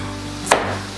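A knife cuts through a cabbage half with a single sharp crunching chop at the middle of a brief moment, close by, over a steady background hiss.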